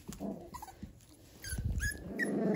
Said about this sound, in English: And then we got our big dogs that are having a disagreement.